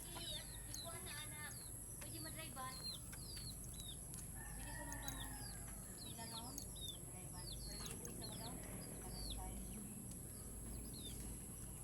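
Chickens and a rooster call and cluck in an outdoor yard, a busy overlapping chorus of chirps and squawks over a constant low hum, with people talking in the background.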